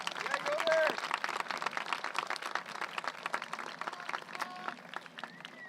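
An audience at a high school graduation ceremony gives a steady round of applause, a dense wash of many claps at moderate distance that continues throughout, with faint voices mixed in.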